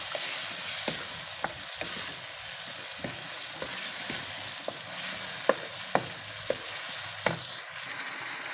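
Ginger chicken masala with freshly ground spice paste sizzles steadily in a pan, broken by sharp scraping clicks as a spoon stirs it at irregular intervals.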